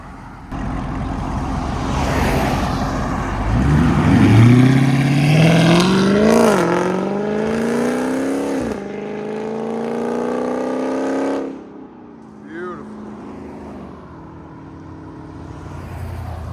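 The 6.4-liter Hemi V8 of a 2020 Dodge Charger Scat Pack Widebody, with high-flow cats and a Borla ATAK cat-back exhaust, roars through several rising revs, loud and close, then cuts off abruptly and settles to a low burble.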